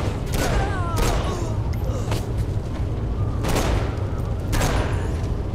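Gunfire in the Saints Row 4 video game comes as repeated sharp booming shots roughly every second over a dense, loud game soundscape, with a voice briefly reacting.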